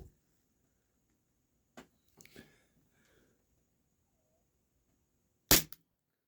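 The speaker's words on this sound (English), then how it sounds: "This is shot number 18." Umarex Glock 17 Gen 4 airsoft pistol fires a single sharp, loud crack near the end, preceded by a few faint clicks and handling taps in an otherwise quiet room.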